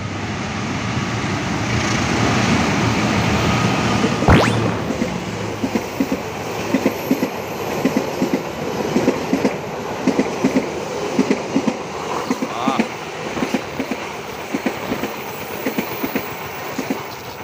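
An Argo Cirebon passenger train passes near Bekasi, a horn-like tone sliding early on, then a steady run of rhythmic clickety-clack wheel beats over rail joints continuing to the end, loud and close, without voices.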